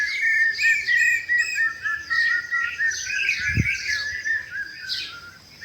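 Several birds chirp and twitter in overlapping high calls, fairly close, with a brief low thump partway through and no talking.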